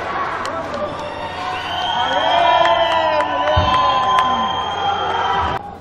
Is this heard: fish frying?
no